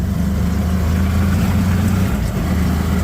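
A motorcycle engine runs with a steady, loud, close low drone that holds evenly throughout, with no talking.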